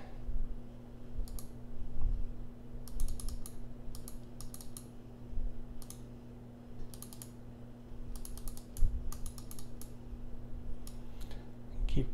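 Rapid computer mouse clicks while editing a video animation timeline, crisp and close in irregular bursts over a steady low electrical hum.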